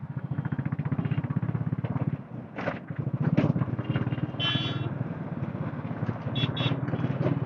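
A motorcycle carrying two riders ahead on an open road gives a low, steady engine rumble heard from a following Royal Enfield Classic 350, with brief wind gusts and small clatters over it.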